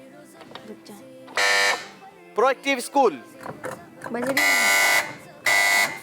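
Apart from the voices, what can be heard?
quiz show team buzzer being checked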